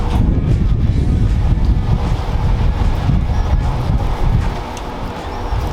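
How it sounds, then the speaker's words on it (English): Heavy wind buffets a microphone outdoors at a backyard barbecue, a loud, continuous low rumble with gusty surges that eases slightly near the end. "Excuse me if it's windy, it's kind of windy today"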